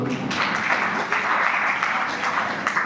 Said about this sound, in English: Clap for the girl.